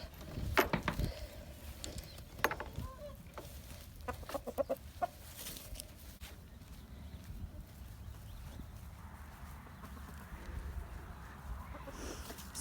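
Chickens, including silver laced Wyandottes, cluck and squawk in scattered bursts over a busy yard background, with a few sharper calls near the start and steady low rustling throughout.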